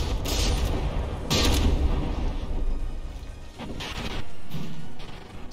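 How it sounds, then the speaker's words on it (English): Artillery shell explosions tear chunks of hull off a battleship in the From the Depths video game, a series of loud booming blasts and crashing impacts with rumbling decay between them, no talking. "that shell just blew a big old chunk of hull off"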